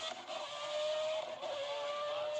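A high-revving 3-liter Judd V8 racing engine holds a steady, loud, sustained whine throughout, with a slight dip partway through before climbing again.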